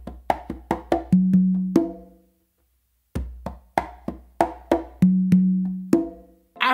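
Songo groove on two congas, crisp hand slaps and ringing open tones in a fast repeating phrase that settles into resonant low notes, played twice with a brief silence between, close and alone.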